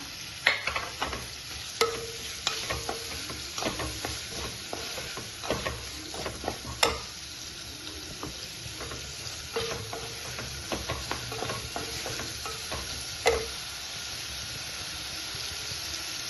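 Masala dosa filling sautéing in a pan: a continuous close sizzle broken by repeated sharp scraping and clacking strokes of a spatula stirring at an irregular pace, with no voices.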